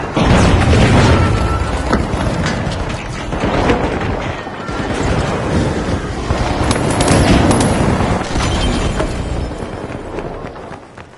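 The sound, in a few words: pyro grenade exploding in a video game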